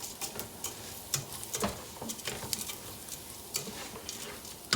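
Bay leaves, cinnamon, cardamom and cloves sizzle in hot oil in a pot while being stirred for rice with nuts, with steady close frying crackle and scattered scraping clicks throughout.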